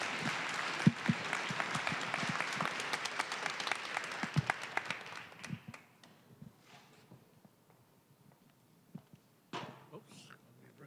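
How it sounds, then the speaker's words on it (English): A crowd claps in a dense burst of applause that thins out and fades, leaving scattered quiet sounds and a few voices afterward. "Please give him a round of applause"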